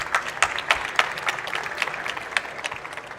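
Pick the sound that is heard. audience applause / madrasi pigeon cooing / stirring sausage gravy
audience applause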